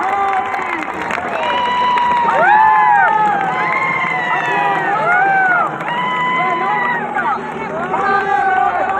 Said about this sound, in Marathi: जोरदार टाळ्यांचा जल्लोष